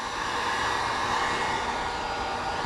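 Heat gun blowing on freshly painted differential parts of a Nissan 350Z/370Z, a loud, steady airy roar that holds constant throughout with no talking.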